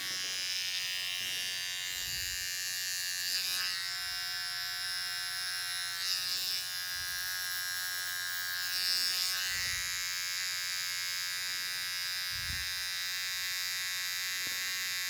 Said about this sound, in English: Trimmer now.